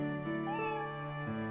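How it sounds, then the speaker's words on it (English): A cat meows in a long, drawn-out, wavering call, close and clear, with the pitch rising and then dropping near the end. "Sorry, it's my cat. It must be supper time."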